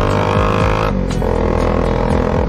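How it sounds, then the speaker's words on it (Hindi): Bajaj Pulsar 220 motorcycle with an aftermarket exhaust revs up close, its throaty harmonic growl rising and falling through a quick throttle blip while riding. "तो गाइस साउंड सुन रहे हो यार बाइक का, बहुत खतरनाक यार, बहुत खतरनाक।"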